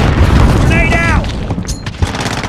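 Grenade blast in Call of Duty: Modern Warfare (2019): a loud booming explosion amid constant gunfire and battle noise, with a brief whistling sweep and game voice chatter mixed in.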